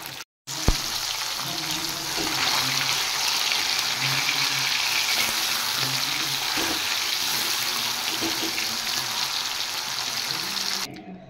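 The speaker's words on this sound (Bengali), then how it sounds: "তেল গরম হয়ে গেছে, এবার আমি মাছগুলো ছেড়ে দেব" Small fish drop into hot oil in a pan and fry with a loud, steady crackling sizzle lasting about ten seconds, starting abruptly after a brief pause and cutting off at the end.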